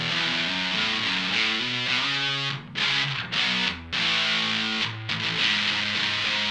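An electric guitar through a Mad Professor Fire Red Fuzz pedal, tone pushed bright, plays saturated fuzzy chords with sustained notes and a few short choked gaps, loud and close with no talking.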